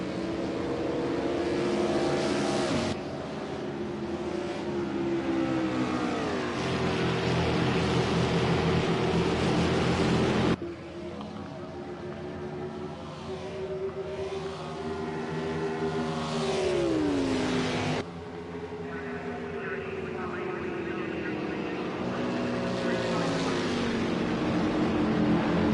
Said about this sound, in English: All fast cars.